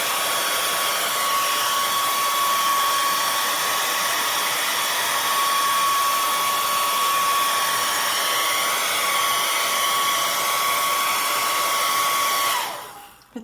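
A hair dryer blows steadily on craft paste to dry it, a loud continuous whirring hiss with a fixed whine that runs unbroken for about twelve seconds, then cuts off abruptly near the end.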